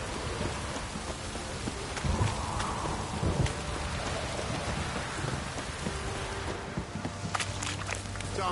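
Heavy rain pours steadily with rolling thunder rumbling through it in The Witcher 3: Wild Hunt, a dense, continuous downpour close by.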